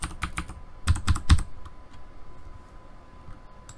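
Quick keystrokes on a computer keyboard, a short run of crisp, close clicks in two clusters followed by quieter background hum, no talking.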